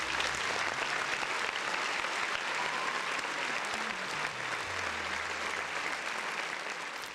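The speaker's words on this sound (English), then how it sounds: "Another round of applause for the folks in the chat." Steady applause fills the clip, a constant crackle of many hands clapping at moderate volume without a break, at a podcast.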